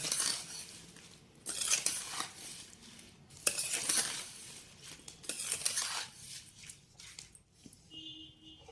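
A spoon mixes dried cut mangoes into oil, giving irregular scraping and clinking against the container in bursts, close by and fairly quiet, with short pauses between strokes.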